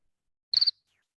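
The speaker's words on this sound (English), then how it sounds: "it's going to make the cricket sound" A cricket chirp sound effect plays in a coding game: one short, bright trilled chirp of a few quick pulses, standing alone in silence.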